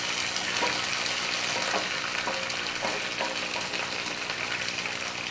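Raw banana pieces fry in a pan with a steady, close sizzle, while a few light scraping stir strokes sound now and then.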